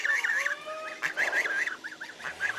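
Ducks and geese on a homestead honk and call in quick, repeated bursts, close and fairly quiet, with no talking over them.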